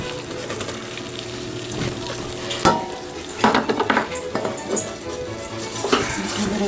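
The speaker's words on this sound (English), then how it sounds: "Give it a good whisk." Flour, garlic powder, pepper, salt and paprika are whisked in a pot, with scraping metallic strokes and clinks against the pan over a low background sizzle, a few louder taps standing out.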